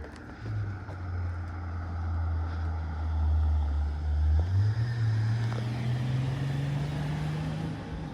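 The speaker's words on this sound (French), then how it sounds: "Tiens, c'est marrant, on entend un peu le moteur." Faint, steady hum of a Rolls-Royce engine idling quietly at a car event in Deauville, a low drone that rises slightly in pitch partway through and stays smooth and soft throughout.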